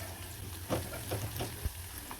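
Chopped garlic sautéing in a pan for fish curry gives a faint, steady sizzle, broken by a few soft clatters from stirring, with no talk.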